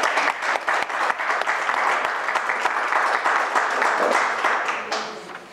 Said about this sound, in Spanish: le vamos a dar un fuerte aplauso de bienvenida